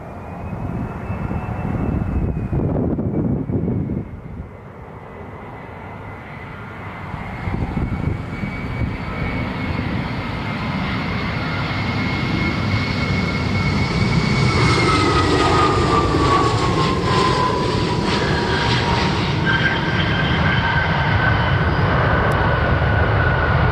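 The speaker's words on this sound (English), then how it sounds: "Delta Airlines 2577 inbound from Atlanta." Delta Airlines airliner arriving from Atlanta at Cleveland, a loud sustained jet engine roar with a rising and falling whine as it passes close by.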